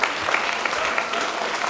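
Applause at a city council meeting in Cupertino, a steady, moderate patter of clapping from an audience in a hall, lasting throughout.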